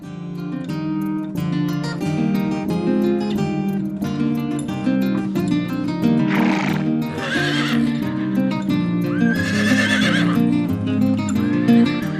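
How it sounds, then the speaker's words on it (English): Camargue horses at a ranch in Provence give two loud, shrill whinnies over gentle instrumental music, with soft hoof clip-clops in between. "the first thing you remember in connection with the Camargue are its famous horses"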